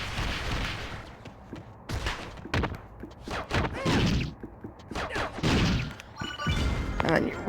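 Explosions and crashing impacts in the video game Kid Icarus Uprising, with several loud bursts and thuds in irregular succession amid other game sounds.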